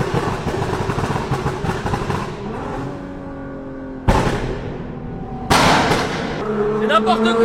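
A Nissan GTR tuned with a hard pop-and-bang exhaust map fires sharp, loud cracks from its exhaust, two distinct bangs standing out over a rumbling engine as the car drives into a tunnel.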